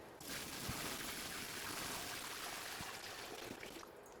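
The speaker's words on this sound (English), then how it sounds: "So I'm gonna pour this and try to pour it not directly on the sand" Lake water pours steadily into an aquarium with a sand bottom, a continuous close splashing rush with no talking.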